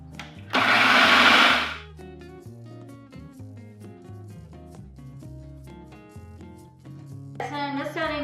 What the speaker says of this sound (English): Okay, so just blend that till it's fine.